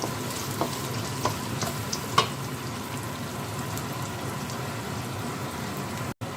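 Roasted cashew nuts sizzle in hot tempering oil for lemon rice, a close, continuous crackle with a few sharper pops and stirring scrapes early on.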